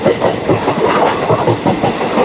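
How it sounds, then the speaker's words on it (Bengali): A short passenger train with few coaches speeds along the Azimganj–Krishnanagar line, its wheels beating a loud, fast, rhythmic clickety-clack over a steady rushing rumble. "অল্প কোচ লাগানো আছে এবং অল্প প্যাসেঞ্জার নিয়ে ট্রেন কিন্তু ধুমধাম গতিতে ছুটে চলেছে।"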